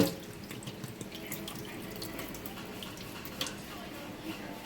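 Water drains from three opened cans of beans into a sink as a steady, soft splashing stream with a few small drips, fairly quiet and continuous.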